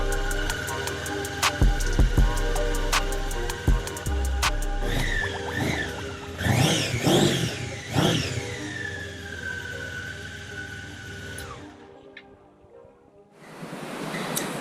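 A Honda CB500 motorcycle with clogged carburetors idles with a steady engine drone, then revs up sharply several times before the engine cuts out near the end, loud and close.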